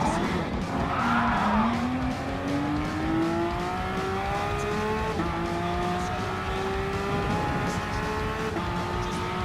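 Porsche Cup race cars roar around the Dragon Trail Seaside circuit in Gran Turismo Sport, engines climbing steadily in pitch through upshifts, with tire squeal and a continuous loud racing drone throughout.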